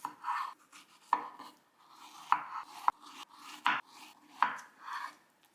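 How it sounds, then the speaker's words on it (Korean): A knife slices through hulled strawberries on a board, halving them for a strawberry fraisier cake: a series of soft, moist thuds and cuts spaced about once a second, close and clear with no voices. "딸기는 꼭지를 따서 일부는 반으로 잘라 키친타올에 올려 수분을"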